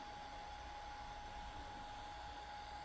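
A DJI Mini 3 Pro drone hovers while flown by hand, its propellers giving a steady, even whine over a soft airy hiss, quiet and unbroken throughout.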